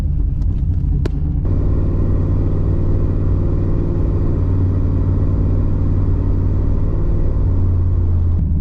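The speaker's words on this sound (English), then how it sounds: "let's go for a drive and see what this new tune does for the car" Third-generation Camaro running with a new engine tune, a steady loud engine rumble and road drone from inside the car while driving, a few brief knocks at the very start before the engine note settles in.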